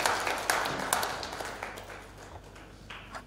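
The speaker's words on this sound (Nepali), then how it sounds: "ताली चाहिँ बजाउँदाखेरि राम्रै सुनिन्छ यो हलमा" Applause from an audience in a hall, a scattered patter of claps that is loudest at first and then thins and fades out over a few seconds, at moderate distance with no talk.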